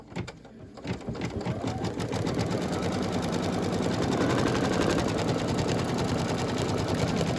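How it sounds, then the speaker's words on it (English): An embroidery machine stitches down fabric in a fast, steady, rhythmic clatter that starts softer and then runs loud and continuous up close. "Okay, so we're going to stitch this down and then we're going to cut that up."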